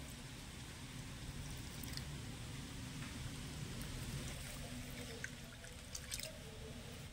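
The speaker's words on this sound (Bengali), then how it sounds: "এই বাটি মেপে দিয়ে দেব 2 বাটি জল" Lukewarm water trickles into semolina in a bowl, giving a soft, steady stream of drips and splashes throughout, faint and close with no talk.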